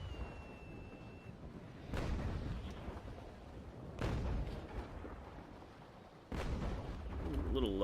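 Ship cannons fire in a naval video game at the rear of an enemy ship: three heavy, booming shots about two seconds apart, each with a rolling tail, over a low ambient rumble.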